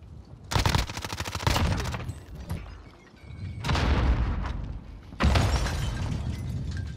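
Gunfire in the Rebirth Island battle royale video game: bursts of rapid, loud shots in three clusters separated by brief lulls, with no talking.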